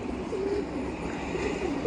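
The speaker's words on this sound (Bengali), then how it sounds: "এই কবুতরটা কিন্তু অনেক সুন্দর, বাঘা কবুতর" A male pigeon coos softly in low, rolling notes, repeated a couple of times at close range against a quiet background.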